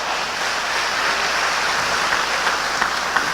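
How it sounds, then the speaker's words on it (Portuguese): Congregation applauding God during a church sermon, a loud, sustained, hiss-like roar of many hands clapping together, steady and continuous with no speech. "Vamos aplaudir o nosso Deus"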